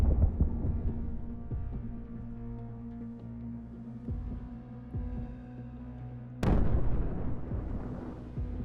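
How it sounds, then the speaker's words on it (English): Ukrainian artillery striking with conventional bombs and cluster munitions: low rumbling thuds and a steady throbbing hum, ending in one sudden loud blast at about 6.5 seconds, with no voices. "Ukrainian artillery is sent to the same location, striking with conventional bombs and cluster munitions"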